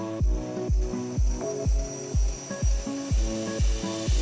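Hand file rasping across a stainless steel double-threaded joint, a steady rhythm of about eight close, loud strokes with sharp onsets and brief pauses between them, no voices.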